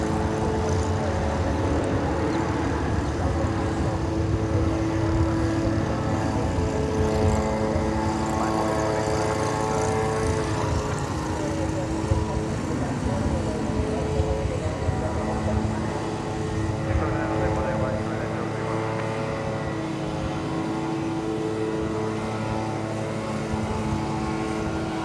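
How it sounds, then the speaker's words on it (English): An American Airlines Airbus A321 jet passes over an airport, a broad continuous engine roar and whine holding steady for the whole stretch, heard from a distance. "coming into the picture before that is American Flight 1343, an Airbus A321"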